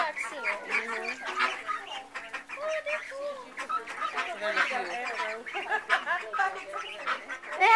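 A group of Mohawk ducks, a crested breed, quacks and chatters at a breeding farm in a busy run of overlapping calls close by, while people talk among them.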